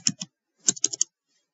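Typing on a computer keyboard while entering a password in a firewall's user mapping settings: two quick keystrokes, a short pause, then a burst of four or five close clicks, near and alone.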